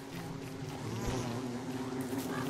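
A bee in the survival game Don't Starve, a steady close droning buzz that holds unbroken under the game's other sounds.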